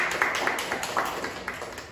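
Classmates clap for a fellow student in a small room, the individual hand claps distinct and irregular, moderately close and fairly brief, with no talking over them.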